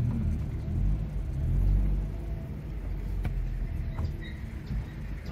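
Cars pass along a road in a Brazilian town, a steady low rumble of traffic swelling and easing at close to medium range, with faint bird chirps above and no talking.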